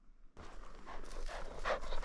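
A female hunting dog pants in the open after retrieving a chukar on a hillside hunt, with quick breathy puffs that grow steadily louder and closer, joined by light movement noise.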